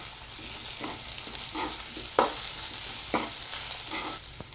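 Finely leaved, bitter wild greens cooking in a pan: a continuous close sizzle with several soft stirring scrapes and a couple of sharper utensil knocks against the pan, with no talking.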